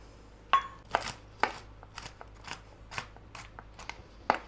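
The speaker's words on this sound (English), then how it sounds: "And we're going to chop them up." Half a cup of walnuts chopped into bite-sized pieces on a board, a series of crisp knife chops at an uneven rhythm, close and fairly loud, with no talk.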